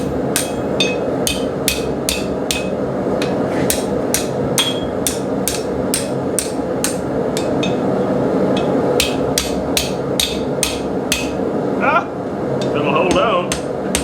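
Blacksmith's hammer striking metal on a small Doyle anvil, bright ringing blows in fast regular runs with short pauses, close and loud over a background hum, with brief voices near the end.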